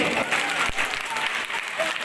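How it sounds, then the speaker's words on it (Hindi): Children applaud at a block-level school sports prize ceremony, a continuous wash of clapping with crowd murmur beneath it. "बच्चे तालियां बजाते रहेंगे।"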